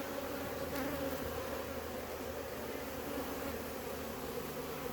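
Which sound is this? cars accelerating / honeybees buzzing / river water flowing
honeybees buzzing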